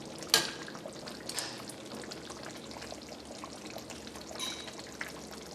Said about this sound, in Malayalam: ഇതിലേക്ക് നമുക്ക് ഒന്നാം പാൽ ചേർക്കാം.